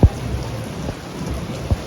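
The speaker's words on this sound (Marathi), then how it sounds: "पाऊस चालू झालं आहे" Steady rain patters down, with a couple of low thunder-like thumps at the start and near the end; no one speaks.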